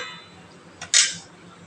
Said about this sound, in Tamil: போட்டுட்டு இப்படி ஒரு கிண்டு, இப்படி ஒரு கிண்டு. அதுக்கப்புறம் அதை வச்சு மூடிடலாம்.